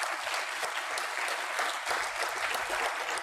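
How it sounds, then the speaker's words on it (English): Sustained applause from a sizable crowd at an alumni summit, dense and even clapping throughout at a moderate distance. "give them a big round of applause"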